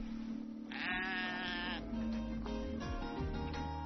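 Sheep bleat in a rural field on a drive across the countryside, one drawn-out wavering call standing out over a steady low background hum, with fainter bleats following.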